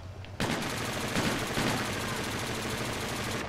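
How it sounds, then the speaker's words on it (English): Rapid automatic gunfire in Call of Duty: Infinite Warfare: a loud, dense burst of continuous shots that starts abruptly and runs steadily for about three seconds before cutting off. "Teammate, please stop shooting."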